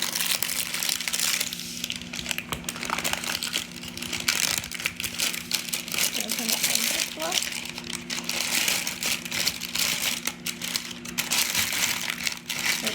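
Plastic packets of yogurt starter crinkling as they are folded up by hand, a steady close crackle running throughout while a person talks over it.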